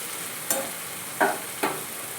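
Fried hilsa fish head is added to taro greens frying in a pan, giving a low steady sizzle broken by three brief scraping stirs.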